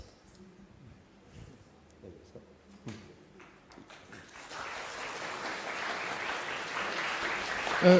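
An audience at an anime convention interview breaks into applause after quiet murmuring and a few isolated sounds, the clapping building and holding strong for the second half.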